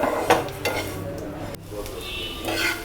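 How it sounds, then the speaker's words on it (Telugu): Bambino vermicelli frying in ghee in a pan, with close scraping and stirring clatter, soft sizzle and a sharp metallic knock midway, no talk. "ఒక ప్యాన్ తీసుకొని బ్యాంబినో వేసి అందులో కొద్దిగా నెయ్యి వేసి మనం బ్రౌనిష్ కలర్లో వచ్చే వరకు ఫ్రై చేసుకోవాలి."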